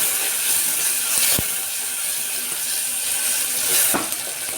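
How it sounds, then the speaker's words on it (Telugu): Tomato pieces frying in a pan for a ridge gourd curry, a steady close sizzle with soft hiss and a couple of brief stirring knocks, no voices. "టమాటా ముక్కలు బాగా సాఫ్ట్ అయ్యే వరకు వేయించుకోవాలి."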